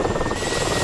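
A Mi-24 Hind helicopter in a combat video game gives a loud, steady rotor chop under a dense whine, filling the whole short moment.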